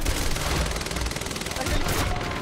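Rapid automatic gunfire from a weapon in the video game Quantum Break, a dense fast string of shots with an echoing boom near the end, loud and continuous.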